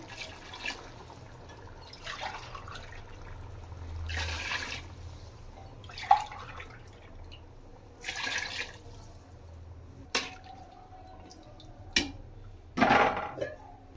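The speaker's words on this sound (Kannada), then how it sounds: "ಅದರಾಗಿ ನಾನು ಸ್ವಲ್ಪನೇ ನೀರು ಹಾಕ್ತೀನಿ" Water is added in short pours to a pot of chicken biryani with rice, tomato and yogurt, giving a series of separate splashes every two seconds or so against quiet room noise.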